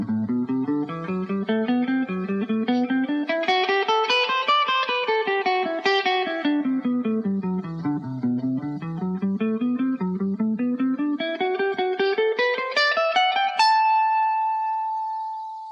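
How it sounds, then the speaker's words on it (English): An electric guitar slowly picks an even A Dorian scale exercise, climbing up and down in steady notes, then rising again and ending on a ringing sustained tone. "Okay, this is a Dorian mode exercise."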